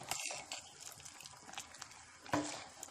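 Sugar syrup with carrots bubbles while being stirred, a quiet, uneven burble with soft scraping and sloshing, close by and without speech.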